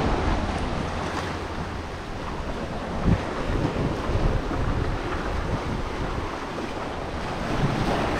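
Ocean waves washing onto a small secluded beach at Koh Phi Phi, Thailand, a steady broad surf roar with wind buffeting the microphone and no talking.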